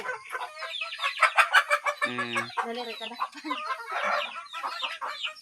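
Chickens cluck busily at feeding time in a dense, overlapping chorus of near, loud clucks and squawks, with a brief crow-like call partway through and a voice speaking once.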